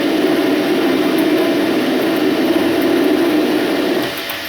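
A metal lathe with an electronic leadscrew feed turns steel at about eight thou per revolution, throwing golden, easily breaking chips; a steady, even machining whir holds throughout, easing slightly at the very end.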